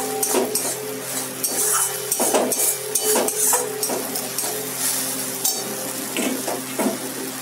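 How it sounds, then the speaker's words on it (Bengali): Hot water goes into a pan of fried shrimp for spaghetti, a bubbling hiss with repeated clinks and scrapes of utensils against the pan over a steady background hum. "দিয়ে দিলাম গরম জল।"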